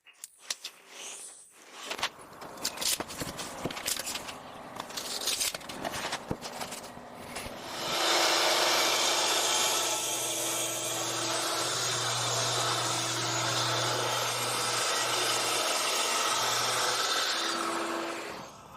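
Power saw cutting wood for a kitchen countertop, starting with clattering handling and short bursts, then a sustained loud whining cut running close for about ten seconds.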